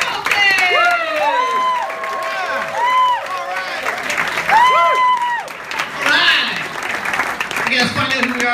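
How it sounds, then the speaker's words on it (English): Audience at a stand-up comedy show in Toronto applauding and cheering for a comedian, steady loud clapping mixed with whoops and voices, while a host speaks over it. "please keep the love and clapping going for your first comedian"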